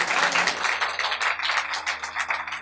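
Audience at a Hindi-Urdu poetry recital breaking into steady, dense applause, many hands clapping close together with a lively, continuous rattle and no talk over it.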